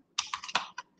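Short burst of typing on a computer keyboard while writing Python code, four or five crisp, close key clicks within one second.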